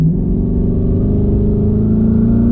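Brand-new daily-driven car fitted with twin turbos accelerating hard after a quick transmission downshift, a loud, close, continuous engine roar rising steadily in pitch as the turbos come on, no talking.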